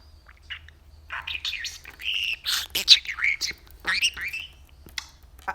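Budgerigars chirp and twitter in a lively run of quick, bright calls that come in bursts and grow busier toward the middle, fairly close and clear over a quiet background.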